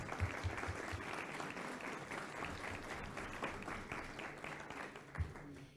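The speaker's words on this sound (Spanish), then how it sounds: "Un aplauso para la maestra, bienvenida." Steady applause from an audience at a school anniversary ceremony, dense and continuous for several seconds with a few stronger claps near the end, heard alone without talk.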